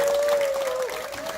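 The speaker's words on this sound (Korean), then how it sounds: "큰 박수 부탁드립니다." A short burst of audience applause follows performance commentary at a traditional Korean jeongga concert in an old house, moderately loud, with a voice talking over it.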